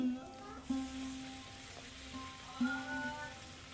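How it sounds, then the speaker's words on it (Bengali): Soft sizzling of luchi dough frying in hot oil, with faint humming tones and a couple of soft knocks over it. "আমি এদিকে লুচি বেলছি আর ভাজছি।"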